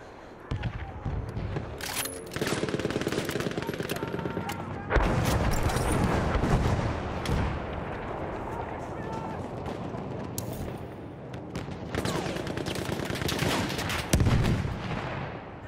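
Heavy battleship artillery from a dreadnought in Battlefield 1 booms through a chaotic battlefield, with repeated loud blasts and crackling gunfire layered over continuous combat noise and voices.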